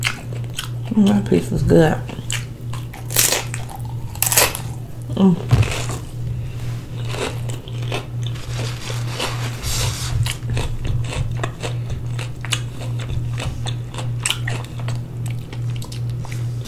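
Crunchy Doritos chewed and bitten up close during a homemade taco meal, with sharp crunches scattered through the clip over a steady low hum, while a person talks between bites.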